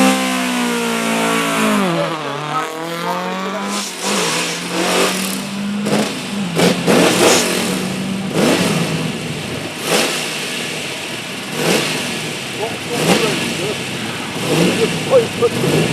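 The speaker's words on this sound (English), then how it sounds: "Being a Chevrolet, of course, it's technically still running the right make of engine." A Chevrolet rally car on the Lombard Rally Bath stage revs its engine hard with repeated rising and falling surges. A commentator talks over it.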